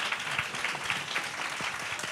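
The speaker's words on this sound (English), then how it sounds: "Clap it up for Miss Beulah, y'all." A small audience claps steadily for a couple of seconds, a dense patter of hands filling the room.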